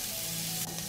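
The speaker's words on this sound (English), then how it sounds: "I add onions and carrots to the heated olive oil." Onions and carrots hit hot olive oil in a pan, giving a loud, steady, close-up sizzle with a faint crackle throughout.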